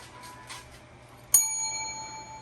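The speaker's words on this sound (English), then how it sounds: "Should probably have your phone off, Mark" A phone notification chime rings out in a post office, a single bright metallic ding that rings on and decays slowly over a faint background hum, with no talking.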